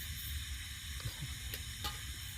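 Food sizzles and is stirred in a pan over a campsite fire at night, a quiet continuous frying hiss broken by a few sharp scraping stirs.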